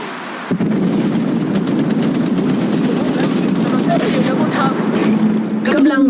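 Sustained automatic gunfire in the Apex Legends Mobile video game, a loud rapid stream of shots starting abruptly and continuing without pause, with game voice lines talking over it.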